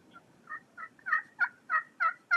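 A series of soft, evenly spaced wild turkey hen yelps, about eight short clucking calls growing slightly louder, heard alone in a quiet setting.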